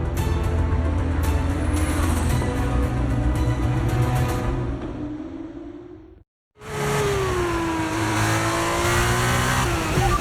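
Formula 1 race car on brand new tyres in the F1 23 racing game, its loud high-pitched engine whine rising steadily under acceleration, cutting out briefly to near silence before roaring back and climbing again.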